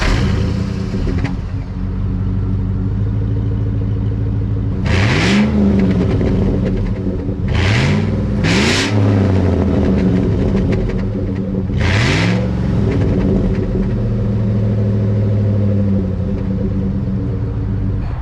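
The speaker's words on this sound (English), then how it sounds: "I'll do an exhaust clip for you guys here as well." A 17-year-old GMC Sierra pickup with a 5.3 liter V8 and aftermarket exhaust, rumbling at a deep steady idle, then revved sharply four times in quick rises and falls, loud and close.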